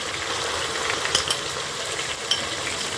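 Green chili paste fries in a pan with a soft, steady sizzle, while a spoon scrapes and stirs it now and then with a few light metallic clinks. The sound is close and moderately quiet, with no voices.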